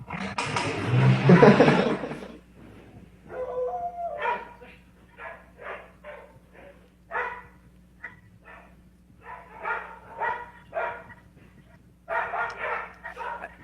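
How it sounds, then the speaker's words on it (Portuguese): Dogs fight and bark in a run of sharp, close, repeated barks and yips after an opening burst of snarling scuffle, with a faint steady hum beneath. "Alan, separa a briga dos cachorros ali, velho."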